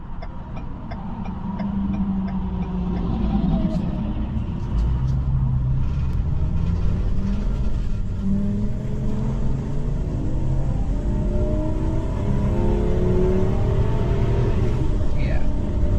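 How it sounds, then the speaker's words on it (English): A Ford E450 RV with a V10 engine pulls back onto a highway, its low engine rumble building and revving steadily under continuous road noise, loud and close throughout with a voice talking over it. "Those V10s, they do like to rev."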